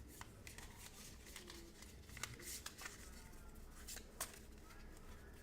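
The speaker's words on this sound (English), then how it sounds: "I was trying to shuffle these cards up" Quiet, steady riffling and rapid flicking of cards being shuffled for Sentinels of the Multiverse, a close, light patter of snaps with a few crisper clicks, no voices over it.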